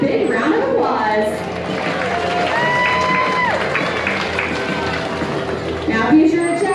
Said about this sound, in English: give Zeke a big round of applause